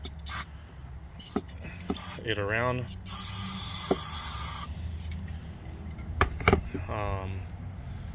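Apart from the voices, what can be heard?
spraying carbon choke cleaner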